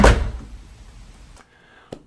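A house door fitted with a Eufy C33 biometric smart lock, no deadbolt, swings open with a loud thunk at the start and a fading rumble, followed by a sharp click near the end.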